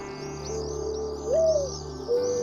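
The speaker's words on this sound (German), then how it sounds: "Das ist ein Vogel." Bird calls in Minecraft, a cooing pigeon-like call rising and falling over a steady tonal background, with a higher chirping repeated above it and no speech.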